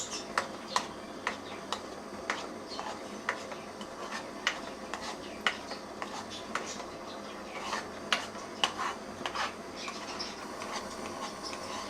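Thick mango pulp stirred in a pan over low heat, a quiet run of irregular spoon taps and scrapes against the metal, with low background hum.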